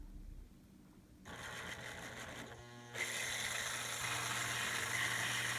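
Motor drive on a model railway turntable hums steadily after starting up, a mid-pitched electric whir that steps up in level twice and then holds a constant buzzing drone, close and alone.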